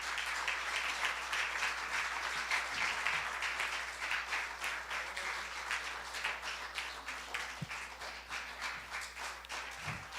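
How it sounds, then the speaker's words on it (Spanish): A church congregation at a Spanish-language prayer service applauds steadily, dense clapping filling the room for the whole stretch with no talk over it. "Vamos a aplaudir a la hermana."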